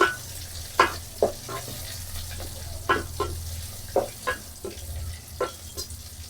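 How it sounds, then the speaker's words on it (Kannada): Green chillies fry in a pan with a crackling sizzle, as irregular sharp pops and spatters recur over a low steady hum, close and moderately loud, with nobody speaking. "ಮೆಣಸಿನ್ಕಾಯಿ ಚೆನ್ನಾಗಿ ಫ್ರೈ ಆಗಬೇಕು"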